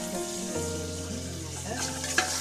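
Vegetables for a vegetable pulao sauté in a hot pan, a steady close sizzle with faint stirring scrapes, lying under background music throughout the short stretch.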